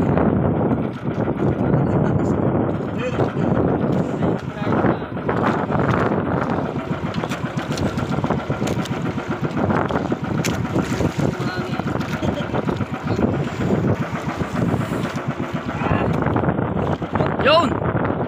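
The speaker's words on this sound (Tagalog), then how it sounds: "Malakas yung hangin." Strong wind buffets the microphone continuously, a loud rushing roar with engine-like rumble, while people talk over it.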